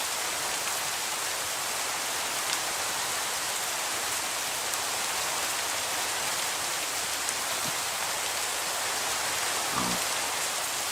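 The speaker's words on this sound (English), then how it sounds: "Of course, now it's raining, so you can't see hardly any of it." Steady rainfall in a Minecraft world, a dense even hiss of drops lasting throughout with a few faint soft taps, no voices.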